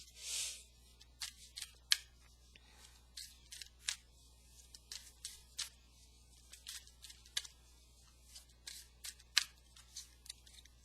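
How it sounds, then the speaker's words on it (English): Soft papery shuffling and light card flicks in irregular bursts, quiet and close, with no talking. "Let me shuffle these up really good."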